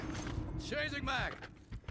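Weapon magazine reload in Call of Duty Modern Warfare III, a brief burst of metallic clicks and sliding mechanism noises with game sounds around it.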